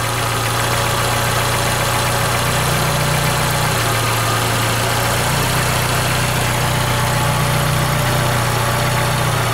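A VW Golf 5 with a 1.6 petrol engine near 200,000 km runs steadily at idle, a loud, close, constant hum and vibration with no voices.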